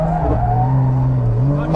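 A Porsche 911K by Tuthill with a hydraulic handbrake accelerates with a loud, rising engine note close by, followed by a brief tire squeal of a skid. A voice may be heard faintly under the engine.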